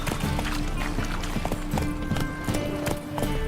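Geralt's horse Roach gallops in The Witcher 3, a fast steady clip-clop of hooves close by, layered over game music and ambient sound.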